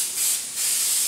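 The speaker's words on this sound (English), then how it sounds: "I spray it every now and then, maybe every third time, with a little of the kitchen spray" Kitchen cooking spray hisses from a can onto a hot pizzelle iron in two close, steady bursts of airy spray.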